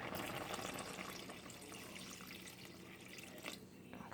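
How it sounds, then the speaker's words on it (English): Tap water runs steadily into a cooking pot while kimchi soup is being made, a faint continuous splashing rush that fills the whole stretch without talk. "now we're going to add water"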